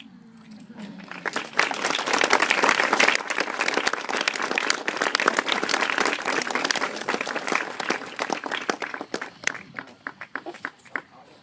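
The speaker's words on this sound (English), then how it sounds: "Let's do one more round of applause for that" Wedding guests applaud after a maid of honor toast, a loud sustained round of clapping that swells quickly, holds, then thins into scattered claps, with some voices mixed in.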